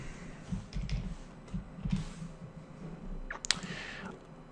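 Faint bursts of computer keyboard typing, a few short clusters of keystrokes with pauses between them, set against quiet room noise.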